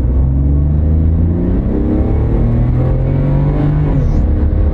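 A 30-year-old German car accelerates hard along a small drag strip, its engine note loud and close, rising steadily in pitch with no pause or voices.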